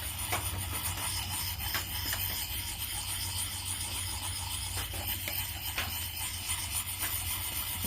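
A knife edge is worked in small circles on a Fallkniven DC4 sharpening stone at a campsite, giving a close, steady gritty rubbing with faint scrapes and ticks throughout.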